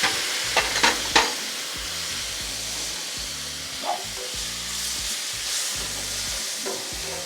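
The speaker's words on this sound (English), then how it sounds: "We're gonna throw our shrimp on next." Shrimp and garlic sizzle and fry on a Pit Boss flat-top griddle, a steady close crackle with a few sharp scraping and stirring hits near the start and another midway.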